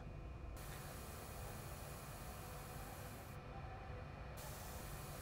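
Liquid mixed with metal-decorated nanotubes is sprayed onto a sensor chip, giving a steady, even hiss that carries on unbroken at low level throughout.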